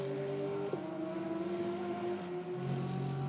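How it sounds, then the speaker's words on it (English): A Lexus race car engine with a flat-plane crank drones steadily on a qualifying lap at a road-race circuit, a sustained tonal howl with a slight pitch shift as it holds speed. "It does have a flat, plain crank noise to that engine"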